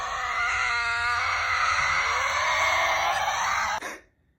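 A Tasmanian devil lets out a continuous harsh, raspy scream that holds loud for several seconds before cutting off abruptly near the end.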